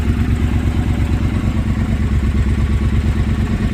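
A Triumph Bobber motorcycle engine idling close by, a loud, steady low rumble with a rapid, even pulsing throb.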